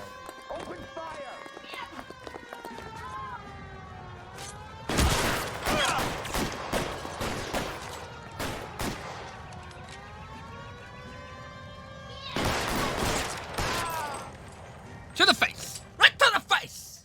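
Bursts of gunfire in the video game L.A. Noire during a car chase, with clusters of shots coming in two loud volleys over a wailing siren and engine noise. Sharp impacts follow near the end.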